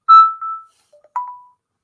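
A phone rings for an incoming call with a clear electronic ringtone: a few sharp, tonal beeps, loud and close, in otherwise silent surroundings.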